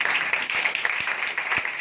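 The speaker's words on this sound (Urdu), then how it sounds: "آئے زندہ خدا کے لیے زوردار تالیاں بجائیے" A church congregation at a Friday worship meeting breaks into loud, sustained applause, a dense wash of many hands clapping steadily throughout with no voices standing out.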